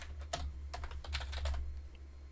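Typing on a computer keyboard while writing Minecraft mod code, a quiet, rapid patter of key clicks in short bursts over a low steady hum, with no talking.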